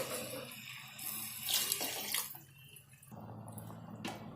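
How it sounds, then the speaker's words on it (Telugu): Water poured from a tap or jug into a pot of taro and garlic tamarind curry, with a steady close-up splashing stream that swells and eases over a few seconds and carries no talk. "మనకు పులుసు తగ్గినంత మనం నీళ్ళు పోసుకోవాలి."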